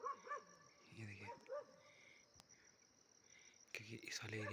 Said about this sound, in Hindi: कुत्ता कंटिन्यू भौंक रहा है।